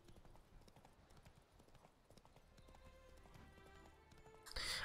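Horse hooves clip-clop in a steady trotting rhythm while riding through a fantasy video game world near a castle, fairly quiet, with game sounds swelling near the end.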